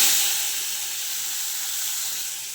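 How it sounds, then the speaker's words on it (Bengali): Strained bitter gourd water hitting hot oil in a kadai, giving a steady broad hiss and sizzle that swells at first and then settles into an even, close frying noise. "তেলটা গরম হয়ে গেছে, এখন আমি এই উচ্ছের জলটা ছেঁকে ছেঁকে কড়াইতে দিয়ে দেবো।"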